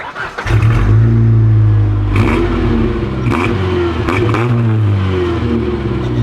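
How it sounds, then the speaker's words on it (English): A Ford EcoBoost drift car with a turbo runs loud and close, the engine droning and revving with crackles and brief whooshing bursts at each gear shift, and no talk. "Turbo noises every shift, though."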